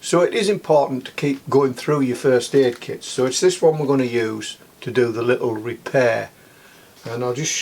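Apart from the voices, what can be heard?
None of the usual background noises is heard.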